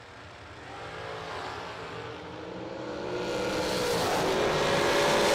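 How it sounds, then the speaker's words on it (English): Drag race cars roar down the strip at a racing event, a rising engine wail that swells steadily louder as the cars accelerate, heard from a distance without commentary over it. "Another fantastic drag race."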